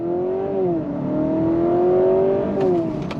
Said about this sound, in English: Let me put it in the sport mode, because we got to be in sport, right? I mean, on throttle. Here we go.